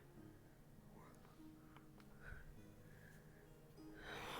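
A pet cat snorts close to the microphone, a faint, short, breathy puff amid quiet background hiss, with soft whispering nearby.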